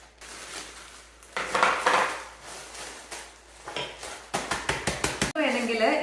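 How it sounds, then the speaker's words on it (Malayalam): Irregular crunching and clinking as digestive biscuits are crushed in a bowl, with bursts of scraping and a series of sharp knocks near the end. "ഡൈജസ്റ്റീവ് ബിസ്ക്കറ്റ് ഇത് ഏകദേശം ടെൻ ടു ട്വൽവ് നമ്പേഴ്സ് ഉണ്ട് സോ അത് ഞാൻ അത് നമുക്കൊന്ന് ക്രഷ് ചെയ്യാം"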